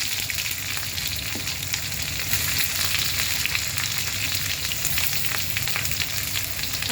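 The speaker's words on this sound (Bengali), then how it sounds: "এরপর আমি দিয়ে দেবো পেঁয়াজ কুচনো" Chopped onion goes into a pan with dried curry leaves and fries with a steady, even sizzle and crackle, continuous and fairly close, holding without a break and without talk.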